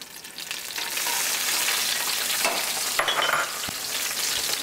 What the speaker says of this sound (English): So I'm going to throw in our San Marzano tomatoes.